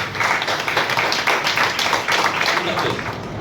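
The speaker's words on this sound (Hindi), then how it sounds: "एक बार जोरदार ताली होनी चाहिए।" A crowd bursts into loud, steady applause at a direct selling team meeting. The dense clapping fills the room for a few seconds, with a voice faintly present underneath.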